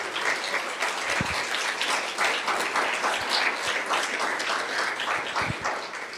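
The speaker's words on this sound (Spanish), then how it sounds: "Dale otro fuerte aplauso a Dios" Church congregation applauding during a Spanish-language sermon, a steady, dense wash of many hands clapping at moderate volume, sustained evenly for several seconds with a few low thumps underneath.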